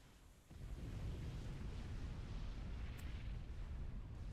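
A nuclear missile detonation in Supreme Commander: Forged Alliance unleashes a deep, sustained roar that surges in after half a second and rumbles on steadily, broad and heavy, with no talk over it.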